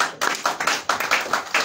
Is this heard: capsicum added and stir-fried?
no